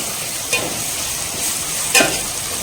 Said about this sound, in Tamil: டொமேட்டோ நல்லா வதங்கிட்டு இருக்குது